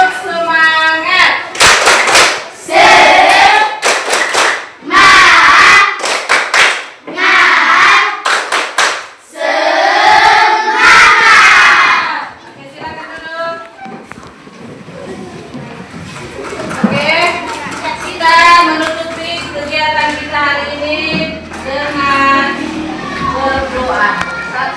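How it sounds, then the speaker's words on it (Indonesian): A primary school class claps a rhythmic spirit clap together: loud bursts of group clapping mixed with chanting voices, followed by lively talk and children's voices as the pattern breaks off. "Oke, sama-sama tepuk semangat."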